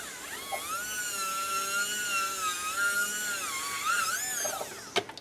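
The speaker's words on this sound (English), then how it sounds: "take my burr and just round those corners" Dental bur whining steadily against a surgical guide to round its corners, a high sustained drilling tone that shifts pitch slightly as pressure changes, with a brief clack near the end and no speech.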